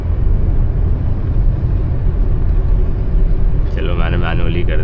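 Hyundai Verna 1.5 turbo sedan engine droning loudly and steadily inside the cabin during manual downshifts from seventh gear, a continuous close rumble with a brief rise near the end.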